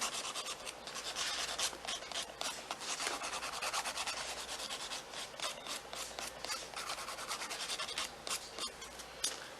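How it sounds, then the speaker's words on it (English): Fingernail being buffed with a nail file during dip powder manicure work, a rapid run of close, raspy back-and-forth rubbing strokes, steady and uneven in force, with no voices. "you just buff it really well with the fingernail file"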